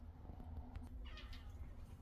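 A faint, short meow rises briefly over a low indoor hum, quiet and somewhat distant.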